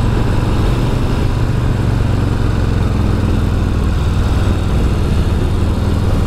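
A 2022 Harley-Davidson Street Bob with mid pegs rumbles steadily while being ridden, its loud, continuous low engine drone mixed with wind roar and no break throughout.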